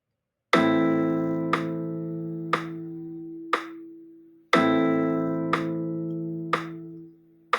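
An open-position guitar chord, with the first string open, is strummed twice. Each strum rings out and is followed by a few single-note plucks as it decays, clear and close with no talk.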